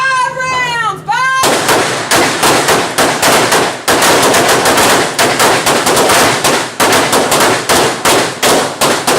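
Shots fired at an indoor shooting range during a zombie-themed prep training session, a loud, fast, steady string of gunshots that follows a brief voice at the start.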